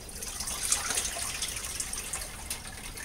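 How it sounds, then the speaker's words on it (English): Dirty water drains from pool filter cartridges, a faint, steady trickle and splash with scattered drips, heard alone without talk. "wait for a second for all the dirty water to drain back in there"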